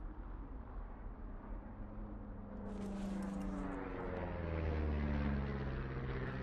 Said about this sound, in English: You see that plane?